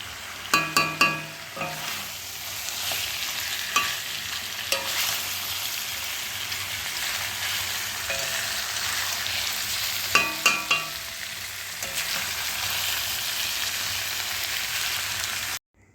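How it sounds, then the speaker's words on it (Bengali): Chicken being braised and fried with green chillies in a pan gives off a steady, continuous sizzle, with occasional clinks of a utensil stirring at intervals. No one speaks. "দেখো আমার মাংসটা প্রায় কষানো হয়ে গেছে"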